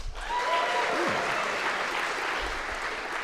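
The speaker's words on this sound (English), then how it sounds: "Round of applause for barbecue." Sustained clapping from a conference crowd at the Big Android BBQ 2015 opening keynote, an even wash of applause with a faint whistle near the start, lasting a few seconds.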